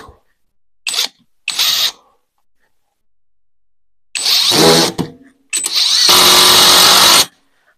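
A Dnipro-M TD-12 impact driver drives a 70 mm screw in close, loud bursts: two short hammering pulses, then a pause and two longer rattling runs that grind on until the screw seats.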